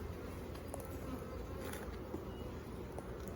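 Honeybees in an opened single brood chamber hive give off a soft, continuous buzzing drone, faint and close, with a few light knocks and no voices.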